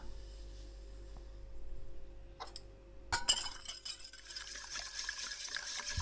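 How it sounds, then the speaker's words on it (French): Sugar poured into a glass bowl while making a chocolate fondant, close-miked in a quiet kitchen: a sharp clink, then a steady grainy patter with small glassy ticks that runs on alone to the end. "Versez le sucre"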